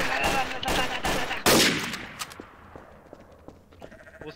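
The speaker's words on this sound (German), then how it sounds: "er hat gerade das Schaf losgelassen" A sheep bleats repeatedly in the game Trouble in Terrorist Town, loud and close, mixed with a burst of gunfire, then the sound fades into quieter scattered clicks and faint noise.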